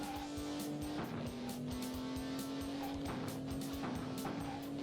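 Futuristic gun-mounted cars racing in the DOS game Have a Nice Day: a steady synthesized engine drone that holds a sustained pitch, overlaid with bursts of gritty game noise and repeated effect hits, continuous and fairly quiet.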